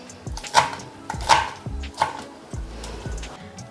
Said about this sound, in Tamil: கீரை நல்லா அரிஞ்சிட்டேங்க